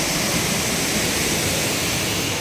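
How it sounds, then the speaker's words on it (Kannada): A natural stream of water pours onto a Shiva linga, making a steady, dense rushing hiss that stays loud and unbroken throughout, with no voices. "ಈಶ್ವರ ಲಿಂಗು ಪ್ರಕೃತಿಯಿಂದಲೇ ಹರಿದು ಬರ್ತಕ್ಕಂಥ ಜಲಧಾರೆಯಿಂದಲೇ ಶಿವನಿಗೆ ಅಭಿಷೇಕ ಇದೆ ಇಲ್ಲಿ"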